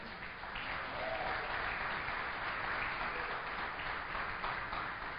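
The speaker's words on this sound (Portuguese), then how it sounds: "Pode aplaudir o Senhor." A church congregation applauds during a sermon, producing a continuous, even wash of many hands clapping, somewhat muffled and distant, with no break across the clip.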